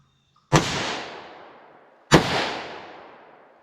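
Two sharp, loud gunshots from a Glock 41 pistol converted to 10mm firing 155-grain Underwood XTP ammunition, spaced about a second and a half apart, each with a sudden crack and a long echoing decay outdoors.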